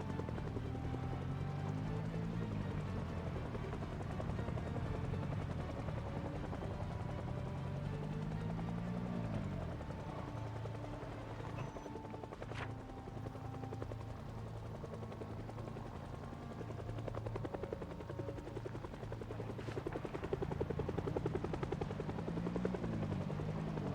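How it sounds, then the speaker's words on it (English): A helicopter flies overhead in the zombie survival game Project Zomboid, its rotor drone loud, steady and unbroken for the whole stretch with no voices. "Depends on how long the helicopter sticks around"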